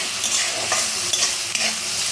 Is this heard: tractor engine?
no